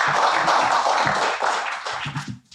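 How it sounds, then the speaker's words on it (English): Audience applause at a film talk event, a burst of clapping that thins out toward the end. "let's give that a round of applause"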